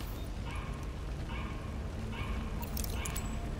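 In the video game The Division, a toy dog barks repeatedly inside the Broadway Emporium, small yapping bursts at a steady rhythm sounding faint against background game ambience.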